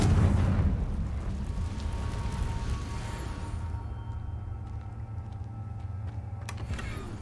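A Confringo fire spell explosion in Hogwarts Legacy opens with a heavy boom, then decays into a lingering rumble, with faint crackles and small pops scattered through the tail.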